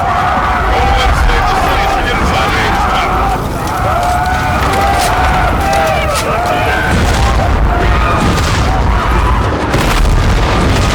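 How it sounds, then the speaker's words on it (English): Explosions and heavy gunfire fill a space battle in Call of Duty: Infinite Warfare, a dense, loud, continuous barrage of booms with shouting voices in the mix. "Our Aegis guns are still firing on our fleet."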